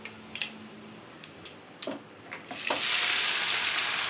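Cabbage hits a hot frying pan for a cabbage and lentil thoran. A few light clicks and taps give way to a sudden loud sizzle that keeps crackling steadily to the end.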